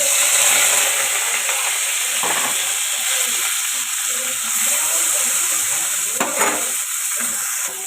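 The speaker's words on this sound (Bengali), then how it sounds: "কড়াইয়ের মধ্যে আমি তেল দিয়েছি, কড়ার তেলটাও গরম হয়ে গেছে। তাই এর মধ্যে আমি দিয়ে দেবো পেঁয়াজগুলো।" Onions fry in hot oil in a wok, giving a loud, constant hiss and sizzle with occasional stirring scrapes and bubbling pops.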